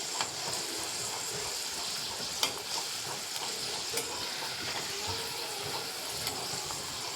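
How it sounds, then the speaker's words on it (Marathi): Okra (bhendi) frying in hot oil in a pan, a continuous close crackling sizzle with occasional sharper pops and stirring sounds, no talk. "राहिलेली आपली सगळी भेंडी आपण हळूहळू थोडी थोडी टाकून फ्राय करून घ्यायची आहे"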